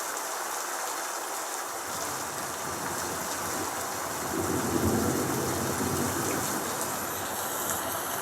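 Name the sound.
rain and thunder from a sound app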